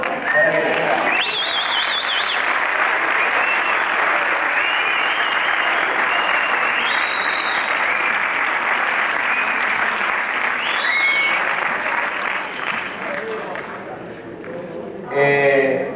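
Sustained applause from a festival audience at a 1998 folk dance day, dense and steady for many seconds before thinning near the end, with a brief renewed burst and voices mixed in.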